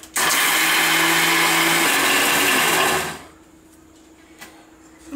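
A mixer grinder whirs loudly and steadily for about three seconds, grinding soaked chana dal and toor dal into a wet adai batter, then cuts off, leaving faint room noise.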